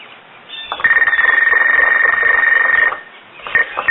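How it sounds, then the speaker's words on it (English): A TA-838 field telephone rings as it is hand-cranked: a loud, narrow-band electronic buzzing ring with rapid pulsing lasts about two seconds, stops, then starts again briefly at the end, heard close and alone. "Notice it only rings when the phone is cranked, so it's not automatic."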